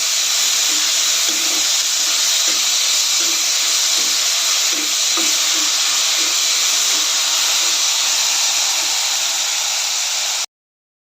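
Onion and tomato with salt sauté in a pan, giving a steady, close sizzling hiss throughout with faint scraping ticks from stirring, and no voices.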